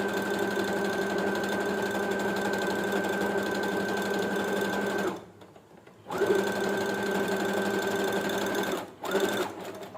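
A sewing machine with a hemming presser foot stitches in a steady, close whirring run, pauses briefly, then resumes and stops again near the end.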